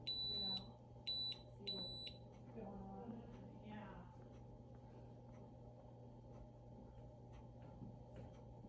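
A urine analyzer gives three quick high-pitched electronic beeps at the start, then a steady low hum with faint clicks and soft background noise, no speech.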